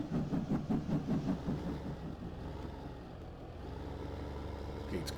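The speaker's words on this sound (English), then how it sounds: "Yep, I hear a train." A train rumbles past in the Farming Simulator 15 video game, starting with a rhythmic, pulsing clatter of wheels that fades into a steady low engine drone, close and moderately loud.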